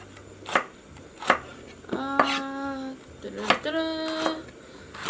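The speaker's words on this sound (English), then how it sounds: "I'm going to slice this too." A knife slices through food on a board in a home kitchen, four or five distinct crisp cuts spaced about a second apart, close by, with brief voiced sounds from a person between strokes.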